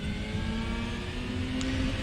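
Sim racing car engine from RaceRoom, a P4-5 Competizione prototype with sequential gearbox at Monza, droning and steadily revving at a sustained pitch, loud and close with no talking.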